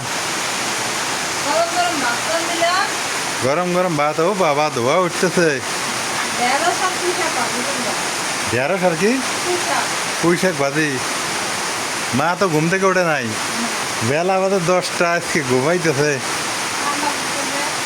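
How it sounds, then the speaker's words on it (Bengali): Heavy rain pouring down outside during a flood, heard as a constant broadband rush beneath a woman's and others' conversation indoors. "দেখেন কি পরিমাণ বৃষ্টি হইতেছে বাইরে"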